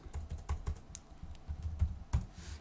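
Quiet, close typing on a computer keyboard during work in MATLAB, with irregular soft key clicks and a louder tap near the end, alone with no voice.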